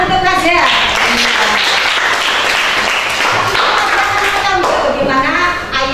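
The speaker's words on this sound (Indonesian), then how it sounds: "Oke, tepuk tangan untuk Fazia." Classroom audience clapping for a student named Fazia, a steady wash of hands that stays loud for about six seconds and thins out at the end, with tonal voices faintly mixed through it.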